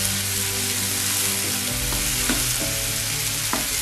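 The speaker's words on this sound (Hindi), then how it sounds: "अब हम अच्छे से इसको भून लेंगे।" Ginger, onion and finely chopped tomatoes fry for a dal dhokli tadka, giving a loud, steady sizzle with periodic scraping strokes of stirring and no voices.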